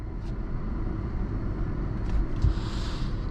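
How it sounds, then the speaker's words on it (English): A 2012 Jeep Liberty reverses slowly into a parking spot, heard as a low, steady engine rumble from inside the cabin with a few soft bumps. "We're just gonna back it into this spot right here."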